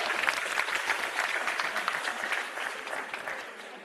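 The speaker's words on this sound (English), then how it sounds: "I think you should give yourselves a round of applause." An audience applauds at the launch of the Chris Hani to Cape Town passenger rail service, a full round of clapping that starts strong and slowly tapers off.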